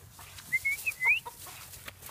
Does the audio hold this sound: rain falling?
no